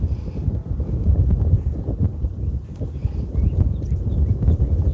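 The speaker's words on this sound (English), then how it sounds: "love when the wind blows though." Wind blowing outdoors on a slightly bright day near trees, a steady low rushing roar with gusty microphone buffeting that stays loud throughout, with no talk over it.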